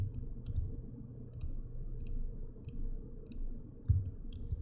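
Mouse clicks while retouching with the Photoshop Spot Healing Brush, a series of small, faint, regularly spaced clicks over a low steady room hum, no speech.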